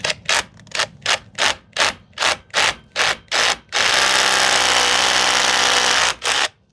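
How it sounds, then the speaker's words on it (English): A cordless impact drill bores into brick for a gate repair, first in about ten short, even bursts, then in one long continuous run, and a final brief burst. Close and loud, with no one talking. "this is a cordless impact drill"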